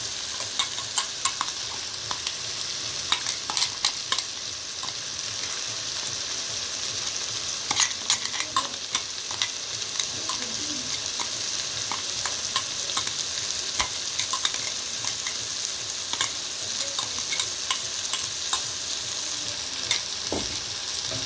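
Grated coconut stirred into an ivy gourd curry in a pan, soft continuous sizzling with scraping and light utensil clinks against the pan.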